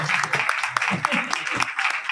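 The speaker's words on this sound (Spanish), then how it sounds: "Aplausos." Dense applause from a crowd at a book presentation fills the clip, steady clapping with cheering and voices mixed in.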